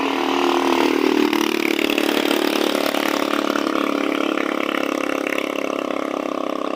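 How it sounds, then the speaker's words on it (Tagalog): A motorcycle with a sidecar labors up a steep road, its engine droning loud and strained at a steady high pitch throughout, with wind noise but no clear talk. "Mapapalaban talaga yung motor mo rito sa akyatan."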